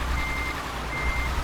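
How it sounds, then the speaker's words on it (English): In Euro Truck Simulator 2, a truck's reversing beeper sounds steadily over a low engine rumble, the tone fairly faint against the droning background. "Stop beeping, Tilda."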